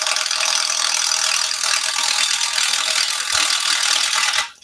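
A bowl gouge hollowing a turned wood piece on the lathe, cutting across the side grain toward the center, gives a loud, steady, rasping chatter that runs unbroken for several seconds, then stops abruptly.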